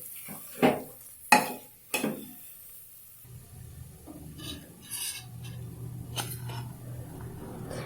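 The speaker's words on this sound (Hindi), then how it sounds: "इस तरह से थोड़ी थोड़ी डाल करके मिलाते जाएंगे और इसे भूनते जाएंगे" Mixed greens saag of spinach, bathua and mustard leaves is stirred and roasted with corn flour in a pan, with a few sharp spoon-on-pan knocks at first, then a steady low scraping and sizzling rasp.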